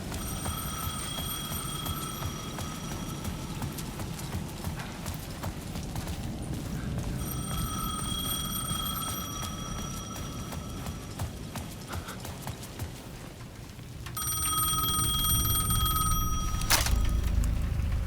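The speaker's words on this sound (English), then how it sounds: "The payphone at the edge of the plaza was ringing again." A telephone bell rings in repeated bursts over steady clopping hoofbeats and ambient noise, the ringing pausing and returning several times.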